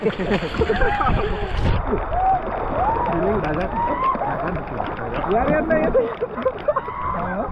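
People swimming outdoors in the rain, with continuous close splashing and sloshing water mixed with loud overlapping voices and shouts throughout.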